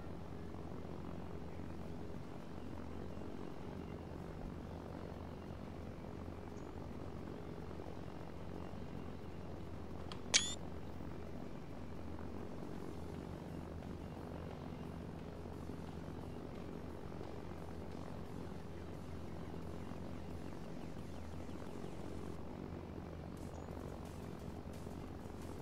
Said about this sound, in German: Kann ich den Heli auch beim Flughafen einparken?